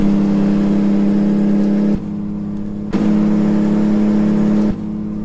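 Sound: truck Jake engine brake in video game American Truck Simulator

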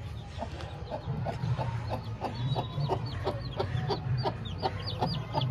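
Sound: Aseel hen and chicks clucking

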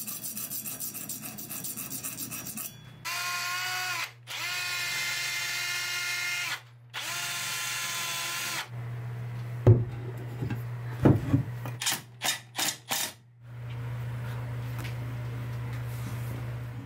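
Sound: drilling through wooden blocks with spoke drill bits

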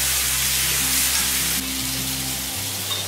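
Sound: cooked toor dal added to sambar cooking in pan

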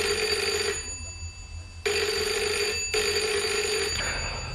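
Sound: telephone ringing

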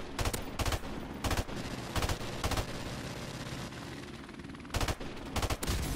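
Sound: gunshots in Modern Warfare Remastered video game

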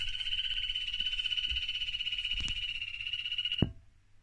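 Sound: yellow dart frogs calling

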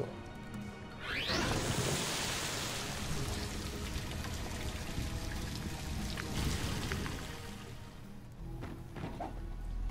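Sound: refilling water in video game Ratchet & Clank

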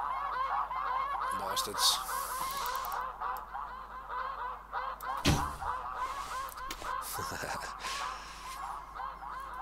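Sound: snow geese honking

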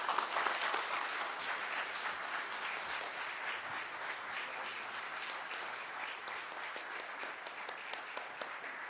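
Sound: audience applause at an award ceremony

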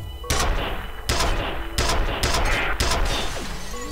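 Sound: Penetrator gun firing in video game F.E.A.R

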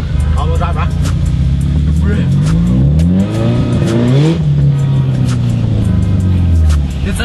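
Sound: Subaru all-wheel drive car accelerating in snow

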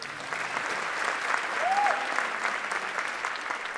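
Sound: concert audience applause

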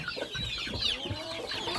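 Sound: young rooster clucking

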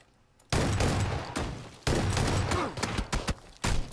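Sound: Saiga shotgun shots in a video game

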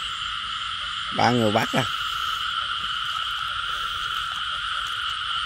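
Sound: frogs croaking after heavy rain

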